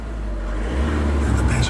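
A customised 205hp IVECO Daily van's engine, heard up close as a loud, continuous low rumble that swells briefly as it is revved.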